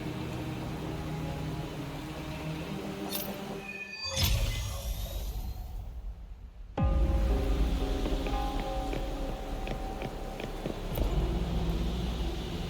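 Steady rain pours down in the video game Wuthering Waves, a dense wash of drops that drops off for a couple of seconds before returning louder and closer, with brief chimes and sound effects layered on top.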